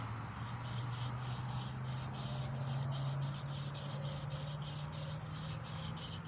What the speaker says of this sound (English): And you can kind of get the sandpaper to move up with the string.